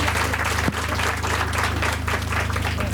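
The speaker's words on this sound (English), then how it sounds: "Round of applause to welcome everybody here this morning." Sustained crowd applause fills a sod turning ceremony for the Unisa Sunnyside Development Projects, a dense, steady wash of many hands clapping together at close range without a break.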